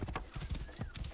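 A horse in the Assassin's Creed Origins video game clops its hooves on a temple floor in quick, close steps while a whinny rises over the top, all brief and fairly quiet.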